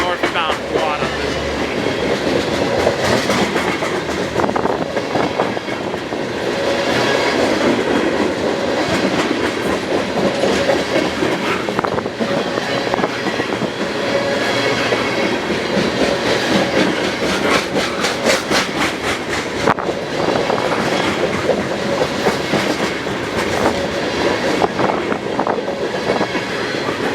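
The northbound Guadalupe passenger train passing near Moorpark, a loud continuous rumble of rail cars with rhythmic clickety-clack of wheels over joints, sustained for the whole stretch.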